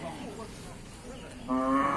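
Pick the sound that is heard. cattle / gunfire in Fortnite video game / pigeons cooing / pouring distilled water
cattle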